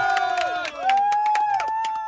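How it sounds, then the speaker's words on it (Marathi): A group of travellers, just back in India from a trip to Bhutan, claps and cheers loudly together, with shouts and whoops over quick bursts of applause throughout. "स्वतःसाठी एकदा जोरदार टाळ्या"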